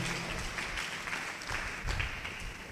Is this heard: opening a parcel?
no